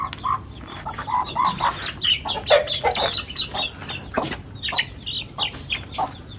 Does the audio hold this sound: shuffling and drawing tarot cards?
no